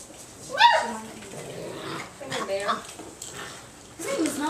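Six-week-old yellow puppies whimper and yip in high-pitched bursts nearby in a kitchen, with a few short barks scattered among them, fairly soft and indoors.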